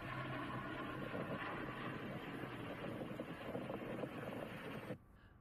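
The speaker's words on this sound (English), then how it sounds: "Finally, we heard the aircraft flying over." An aircraft passes overhead as a steady, faint broadband roar that holds evenly for about five seconds and then cuts off abruptly.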